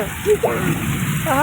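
Steady rain hissing close by under a person speaking, a continuous rushing patter throughout the short stretch.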